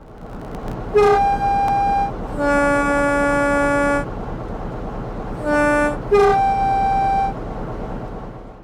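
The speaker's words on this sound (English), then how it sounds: "The Class 45's horn sounds way too scratchy, almost like it was synthesized instead of being recorded from the real thing." A Class 45 diesel locomotive's two-tone horn in Train Sim World 4 sounds in two pairs of blasts, harsh and buzzy, over a steady low rumble of engine noise.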